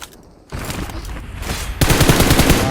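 Rapid automatic gunfire fills a competitive shooter video game match, starting as a steady stream and then turning into louder, denser bursts that dominate the mix without talk.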